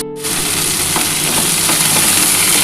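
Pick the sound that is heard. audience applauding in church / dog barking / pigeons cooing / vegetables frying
vegetables frying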